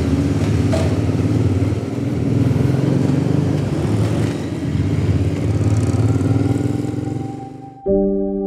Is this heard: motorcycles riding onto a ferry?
yes